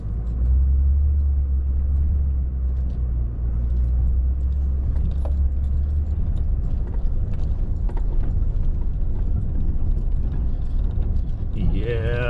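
A pickup truck towing on its trailer hitch rolls down a rough dirt road, with a deep continuous rumble and rattling, jangling body noise. Someone talks over the drive.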